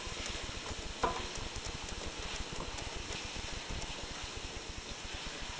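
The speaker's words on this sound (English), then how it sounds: "We're going to let this simmer and get all the flavors mixed together." Zucchini and pepper simmer in a pan with a steady, soft sizzle and gentle bubbling, faint and continuous, with one small clink near the start.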